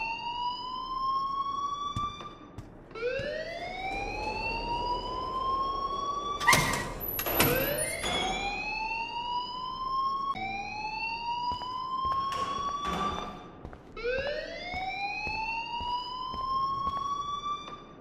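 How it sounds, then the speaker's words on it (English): A school alarm in the video game Life is Strange, a repeating electronic siren that whoops upward in rising sweeps and carries on with brief clatters and clicks between the cycles. "please turn off that alarm since that's your job"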